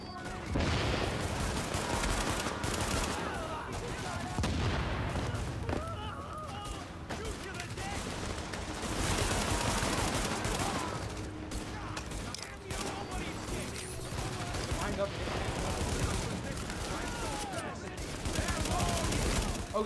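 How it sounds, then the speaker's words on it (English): Rapid bursts of automatic gunfire crackle through a firefight in Tom Clancy's The Division, sustained and dense across the stretch with brief dips, while players talk excitedly over the shooting. "I start shooting at the Ripper, guys."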